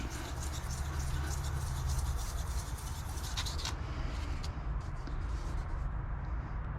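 Lapping a solid roller lifter part by hand for a C5 engine build, a steady close rhythmic scratchy rubbing over a low background hum, the bright scraping easing off partway through.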